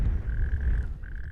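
Rare toad croaking on protected beach sand dunes, two sustained trilling calls with a short gap between, close and clear over low rumbling wind.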